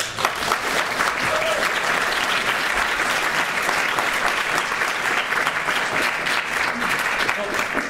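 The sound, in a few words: audience applause for speaker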